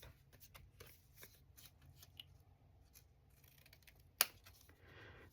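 Scissors snipping a paper page tab for a junk journal, quiet close paper rustling and handling, then one sharp, distinct cut near the end.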